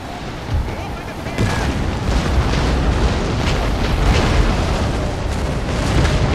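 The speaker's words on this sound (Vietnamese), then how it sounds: "pháo nó bắn rồi" Cannon artillery in Napoleon Total War fires in a heavy battle barrage, a loud rumbling roll of overlapping booms that swells after a moment and keeps thundering without a break.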